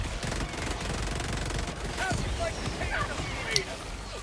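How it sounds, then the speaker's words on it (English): A shotgun firing incendiary rounds in Helldivers 2 lets off a quick cluster of shots early on. Steady game noise and a few chirpy effects follow. "it's a shotgun that shoots fire bullets"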